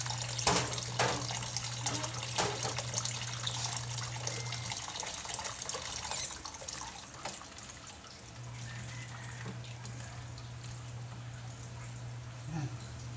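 Hot water running from a kitchen tap, a steady close rush of flowing water with a low hum that drops out midway and returns, and a voice talking over it.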